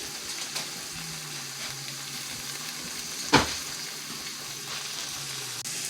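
Garlic and seasonings sizzle steadily in a hot pan for a salmon Wellington, a close, even frying hiss with one sharp clink of a utensil midway and no voices.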